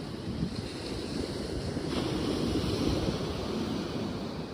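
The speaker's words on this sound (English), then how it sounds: "That's ocean sound, I think better by the ocean." Ocean waves at a beach, played back from a video, make a steady broadband wash of surf with wind rumble, continuous and fairly loud, with no talking.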